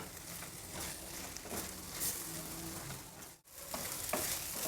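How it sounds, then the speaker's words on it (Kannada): Gojju being fried and stirred in a pan until it thickens and the oil separates, a continuous close sizzle with scraping stir strokes, one brief pause, no speech. "ಈಗ ಇನ್ನೊಂಚೂರು ಹುರಿಯೋಣ, ಇನ್ನೂ ಸ್ವಲ್ಪ ಗಟ್ಟಿಯಾಗಲಿ ಇದು ಗೊಜ್ಜು."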